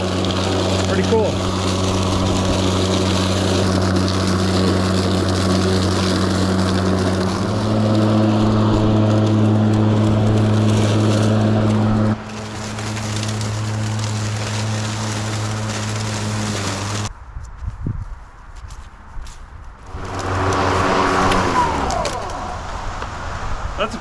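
A Stihl RMA 460 battery electric lawn mower runs with a steady motor whine and blade hum, changing pitch as it cuts and clears grass, then briefly drops off before spinning up again; a voice talks over it.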